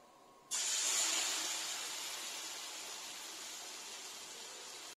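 Sukhiyan snacks frying in hot oil, a sudden loud sizzling hiss that bursts in and holds steady, slowly easing off, close and alone without voices.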